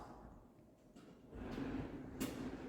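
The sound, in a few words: pocket door sliding in a new house's mudroom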